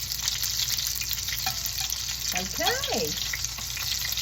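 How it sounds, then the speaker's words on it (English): Meatballs fry in a hot pan with a constant bright sizzle, and a brief shift of the food near the middle interrupts it. Someone says a single short word partway through. "Let's get that flipped over there on the hot side of the pan."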